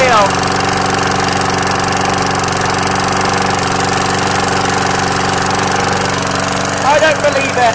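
A frozen, snow-covered lawn mower engine keeps running steadily after a single pull, its loud, even drone lasting the whole stretch, with a brief voice rising over it near the end.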